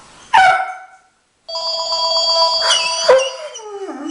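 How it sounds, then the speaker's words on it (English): A dog howls in long wavering tones as a telephone rings, the bell's steady trill running beneath and between the howls, with a short pause before the ringing starts; both are close and loud. "This happens every time the phone rings."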